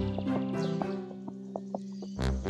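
Cartoon hoofbeats of a baby goat crossing a stone bridge: a light, evenly spaced clip-clop of small hooves over soft background music, ending with a louder thump.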